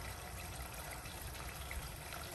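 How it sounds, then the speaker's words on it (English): Chopped tomatoes and onions poured into a cooking pot in a home kitchen, giving a steady, close, wet rushing sound with no talking. "I'm just gonna go grab my tomatoes and the rest and just pour everything in."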